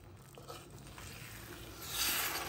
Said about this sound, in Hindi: इमली के पल्प में 1 ग्लास पानी मिक्स करके इसमें डाल दें।